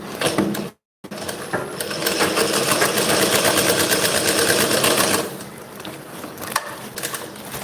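A sewing machine stitches piping onto fabric, starting with a short burst, then a brief stop, then a long steady run of rapid mechanical stitching that slows and quiets toward the end, near and loud.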